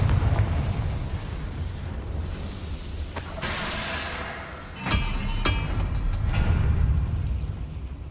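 Fiery blasts of the Confringo spell in Hogwarts Legacy: several sharp explosive bursts with rumbling booms, set against a low continuous game background.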